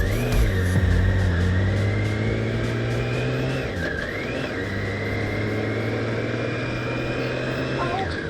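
A 2015 BMW K1600 GTL motorcycle engine runs smoothly while riding, a steady loud hum that rises through the gears with brief dips at shifts, accompanied by wind noise.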